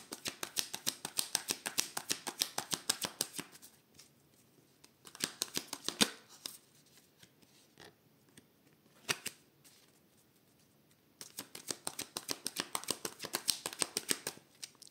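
A deck of tarot cards is cut and shuffled close up, with rapid riffling bursts of crisp card flicks separated by quiet pauses and a few short isolated snaps.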